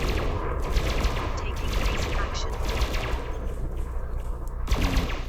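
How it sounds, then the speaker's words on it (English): Rapid bursts of frag cannon fire from a ship in the space combat game Elite Dangerous, loud and continuous over a dense hum of engines and weapons, with a sharp thump near the end. "As he slows down, I start to fire the frag cannons"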